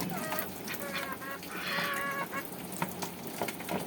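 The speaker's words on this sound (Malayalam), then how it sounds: "ഇതെൻ്റെ താറാവുകളാണ്." Ducks kept by their owner, about to be bathed, give a run of honking, goose-like quacks, loud and close, repeated through the stretch over a busy outdoor background.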